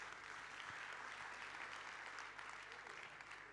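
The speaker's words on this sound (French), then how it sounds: "Vous pouvez les applaudir encore et les accompagner." Faint, steady applause from an audience at a tourism awards evening in Pau, a continuous wash of clapping heard from a distance throughout.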